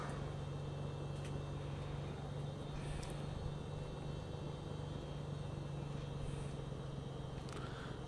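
A light aircraft in Microsoft Flight Simulator 2020 rolls onto the runway during a United Kingdom VFR tour, its engine a steady, unbroken droning rumble that holds evenly from start to finish.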